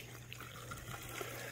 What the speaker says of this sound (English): We want to let that water run.